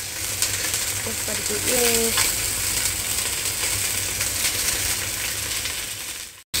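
Shallots, garlic and ginger fry in a pan with a steady, loud sizzle and scraping stirs, a voice speaking briefly over the crackle before it cuts off abruptly.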